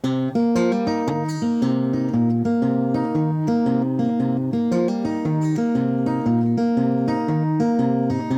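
Electric or acoustic guitar playing a riff fingerstyle, ring finger alternating with the other fingers, a steady repeating pattern of plucked notes that rings out clearly and alone throughout.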